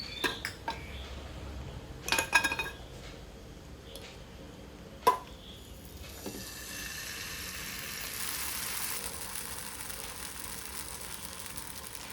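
Ghee and jackfruit dosa batter spread on a hot pan for Mangalore-style dosa, with scattered metal clinks of spoon and pan, a soft steady sizzle building toward the end, no talking.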